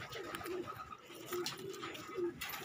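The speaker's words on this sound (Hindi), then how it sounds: "कबूतर भूखे भी हैं।" Soft, repeated cooing of pigeons, several low throaty calls spaced out over quiet background noise.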